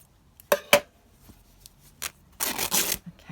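Fabric tears in a few quick rips while a craft project is underway: two sharp bursts early, then a longer, louder ripping stretch near the end, close up and with no talking.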